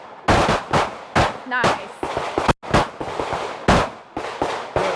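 Handgun shots fired at an outdoor shooting range during a students' range readiness test, a loud run of sharp cracks, some close together, with a brief spoken word between them.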